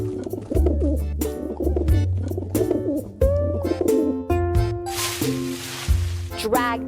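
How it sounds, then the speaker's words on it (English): A carrier pigeon cooing in a preschool farm animals game, repeated soft coos over cheerful game music and sound effects. "There are carrier pigeons on our farm."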